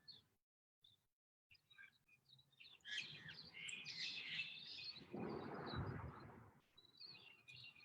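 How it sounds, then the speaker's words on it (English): Evening birdsong in a city carries from a distance, with several bursts of chirps and trills over a soft background hush, including a fuller, louder stretch midway. "The birds are very loud tonight."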